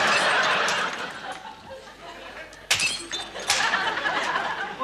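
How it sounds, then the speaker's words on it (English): Saucers are smashed indoors in a sitcom scene, giving sharp breaking crashes of crockery, two distinct shatters standing out amid a busy background with faint laughter and murmuring. "Why are you smashing up saucers, Rick?"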